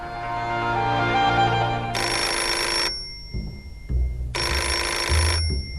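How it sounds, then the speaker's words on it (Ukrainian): A telephone rings inside an apartment with two long electronic trill bursts separated by a pause, moderately loud and close, over soft room noise and faint background music. "Зранку у квартирі Григорія Романовича пролунав телефонний дзвінок."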